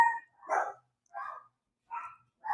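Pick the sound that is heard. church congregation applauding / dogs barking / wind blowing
dogs barking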